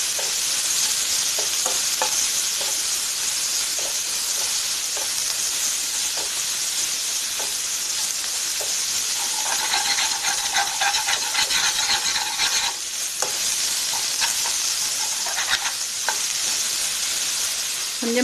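Onions and curry leaves fry in hot oil for a Kerala-style brinjal vindaloo, a dense continuous sizzle and hiss with occasional soft stirring scrapes and a brief brighter crackling burst midway.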